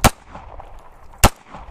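Two sharp gunshots, about a second apart, crack out during target shooting in the Sonoran Desert, each a loud, abrupt report with a short decay and no voices.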